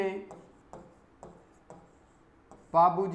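Chalk or pen taps and scratches in short strokes at a steady pace, roughly every half second, faint and close, with someone speaking before and after.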